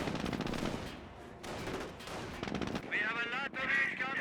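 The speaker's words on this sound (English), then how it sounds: "Jeep firing away against the Volks" A Jeep's machine gun fires in Company of Heroes against German Volksgrenadiers, bursts of rapid gunfire crackling in clusters with short gaps, mixed under a commentator's speech.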